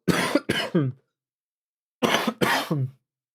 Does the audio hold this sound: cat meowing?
no